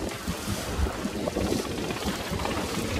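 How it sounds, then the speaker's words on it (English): A sailing boat pounds through steep, short chop whipped up by a westerly wind blowing against the tide. Steady wind buffeting and rushing water sound close and continuous throughout, with no talking. "we're getting quite a big wind over tide situation. That's whipping up this short chop here, which is very steep."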